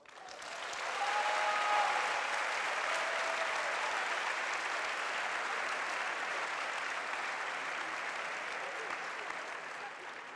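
Warm applause from a large audience at a public talk, a sustained roar of clapping swelling in and holding steady for about ten seconds, heard from a distance and fairly soft.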